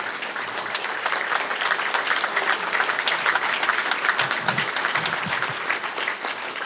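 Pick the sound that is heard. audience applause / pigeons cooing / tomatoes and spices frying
audience applause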